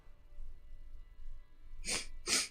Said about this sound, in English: might be another sneeze up in there